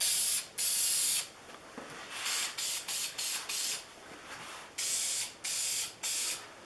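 Minwax clear satin lacquer sprays from an aerosol can onto a Stanley No. 6 fore plane, a close, loud hiss in a dozen short bursts of about half a second each, separated by brief pauses.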